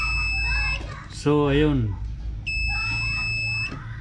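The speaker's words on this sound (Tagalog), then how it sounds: "parehas may buzzer" Buzzer sounding from a shorted Astron 32-inch LED TV: two steady high-pitched electronic tones, each lasting under a second, with someone talking in between and a voice briefly overlapping.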